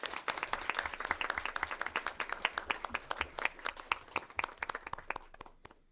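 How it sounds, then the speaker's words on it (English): Audience applause at a school board meeting, a steady burst of many hands clapping close by that thins toward the end. "Let's give them a hand of applause."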